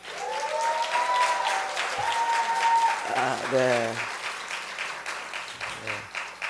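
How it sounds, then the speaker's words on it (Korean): A church congregation at a New Year's Eve service claps warmly for a couple, with steady applause throughout and someone speaking briefly over it. "박수 한번 쳐주시겠어요?"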